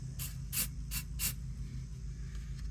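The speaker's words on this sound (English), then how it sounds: "I have some white spray paint" Four short bursts of white spray paint hiss onto a 1999 K2500 Suburban drive shaft, quick and evenly spaced over a low background hum, no talking.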